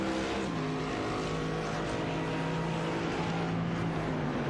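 A Porsche race car engine in the CORE GT Series racing game drones at a steady high pitch with a clear harmonic whine that slides gently in pitch as the car moves, loud and continuous with no talk.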